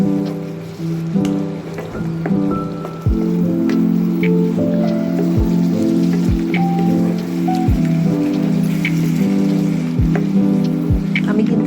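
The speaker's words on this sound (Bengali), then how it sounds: "এবার খুব ভালো করে এটা কষে নেব" Masala for dhokar dalna frying in a pan with salt, turmeric and Kashmiri chilli powder, giving a steady close sizzle dotted with sharp pops and crackles throughout, with no talking.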